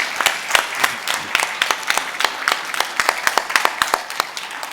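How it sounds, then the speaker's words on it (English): A conference audience applauds the panelists at a transport and logistics event, dense close clapping with distinct individual hand claps in an irregular rhythm throughout. "Round of applause for these great panelists"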